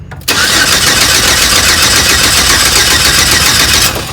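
A 4.3L Vortec engine that cranks but won't start gives a loud, close, continuous churn of cranking that starts abruptly and runs for nearly four seconds without catching, then trails off at the end.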